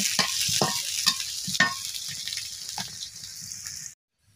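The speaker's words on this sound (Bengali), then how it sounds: "এবার এইগুলো দিয়ে আমি ফোড়ানিটাকে লাল লাল করে ভেজে নিব" Chopped onion and garlic fry in oil in a wok, a bright sizzle broken by several rhythmic scraping stirs before it cuts off suddenly.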